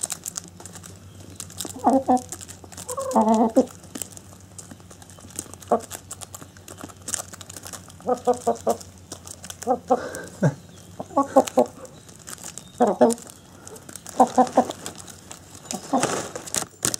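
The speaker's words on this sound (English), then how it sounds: "Chickens like Cheerios." Chickens cluck and peck while eating Cheerios, with short bursts of soft clucking calls scattered at irregular intervals over a quiet background hum.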